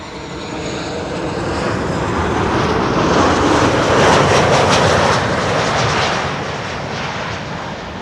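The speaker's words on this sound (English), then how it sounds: "Here we have a Delta A330." A Delta Airlines Airbus A330 lands at Schiphol on the Kaagbaan runway, its jet roar building to a loud, close peak before fading again.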